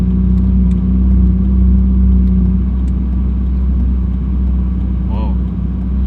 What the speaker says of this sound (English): we're at idle in the cabin with the valves open. I'm gonna close them.